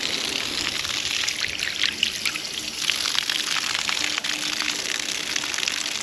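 Water flowing from a frostline hydrant on a farm, a steady close splashing trickle that continues without a break and with no talk.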